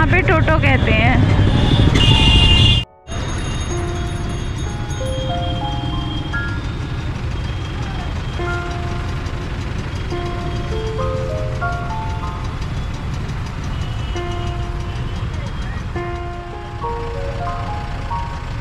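E-rickshaw (toto) ride through busy street traffic in Banaras during a political rally, with a steady roar of road noise, blaring music and horns close by throughout.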